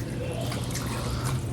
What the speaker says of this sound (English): we're just gonna pour that all in the bottom here